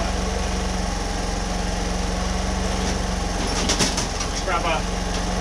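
A Homelite HG600 generator engine runs with a steady, close, low droning hum and even rhythmic pulsing, with a brief clatter of other sounds partway through.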